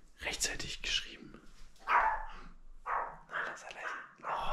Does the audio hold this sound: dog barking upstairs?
yes